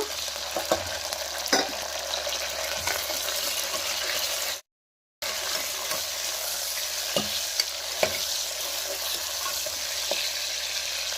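Curry leaves and chopped tomato sizzle and fry in a home kitchen pan, a steady crackling hiss with occasional spoon stirs, broken by a brief half-second gap of silence midway.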